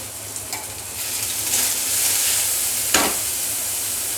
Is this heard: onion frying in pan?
yes